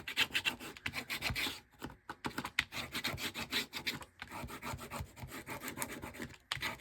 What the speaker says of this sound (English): Get all the air out of the strips like that